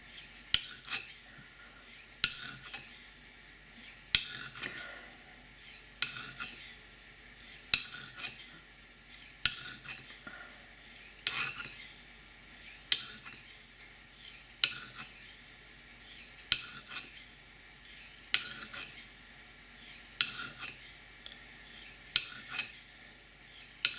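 An SPS-II steel knife drawn across a Spyderco UF stone in steady, repeated rasping strokes, about two per second, close and clear with no talking, with scratch patterns crossed to minimise the burr.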